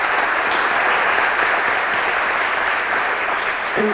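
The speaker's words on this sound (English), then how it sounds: "Let's stop and give our teachers a round of applause who have committed to East Nashville" Audience at an East Nashville community meeting on school pathways applauding teachers, a full, even roar of clapping sustained for several seconds at steady volume.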